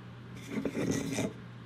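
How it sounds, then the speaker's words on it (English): Sanding block rubbed over the tongue and edges of a wooden Shaker cabinet door panel, a short rasping scrape of about a second that swells and fades, fairly quiet and without talk. "I used a sanding block to make sure I had no splinters in the way that would prevent a tight clamp"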